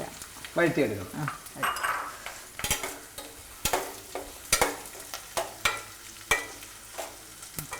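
Small shallots sautéing in hot oil with salt, a crackling sizzle under irregular spatula scrapes and sharp metallic taps against the pan, close up with no talking.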